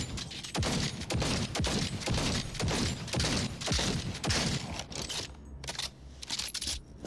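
Player's gun firing in Cyberpunk 2077, a rapid loud string of close sharp shots in quick succession, fading to a few scattered shots at the end.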